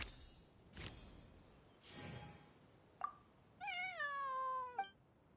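A cat in the video game Genshin Impact meows several times, with two breathy drawn-out cries followed by a short chirp and a longer, clear rising meow, fairly quiet and alone.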